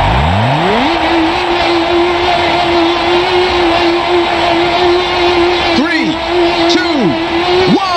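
Race car engine from the video game Ridge Racer 2 on the Extreme Oval track, a loud sustained drone that climbs steeply, holds at high revs and dips through quick downshifts near the end, with talk over it.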